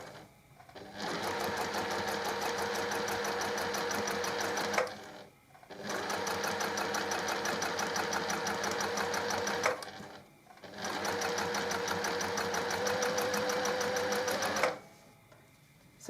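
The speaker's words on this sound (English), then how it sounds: "I'm going to sew close to the edge and sew that side on" A sewing machine stitches a zipper onto a fabric pouch close to the edge, running in three long steady bursts of several seconds each, separated by brief pauses, loud and close with no talking.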